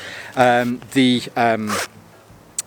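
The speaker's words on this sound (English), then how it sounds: "The zippers into the main section here and on the front on both of these bags, these are the YKK" A YKK zipper on a Vanquest sling bag is pulled in three quick, close strokes, each a short bright rasp, followed by a small click as it stops.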